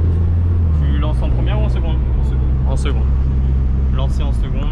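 A stage 3 Seat Ibiza FR 130 1.9 TDI doing a launch in second gear, its diesel engine a loud constant low rumble heard from close by, with people talking over it throughout.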